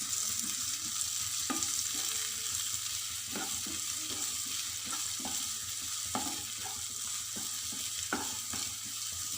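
Tomatoes sauté in a hot pan for egg bhurji, a continuous sizzle with repeated scraping stirs and light spoon knocks at irregular intervals, close and without talk.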